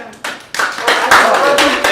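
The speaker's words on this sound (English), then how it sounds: "Let me give that a round of applause, please." An audience at a podcast launch party gives a short, dense round of applause, hands clapping loudly and continuously for about two seconds.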